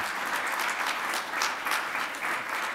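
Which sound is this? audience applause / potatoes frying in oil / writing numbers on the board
audience applause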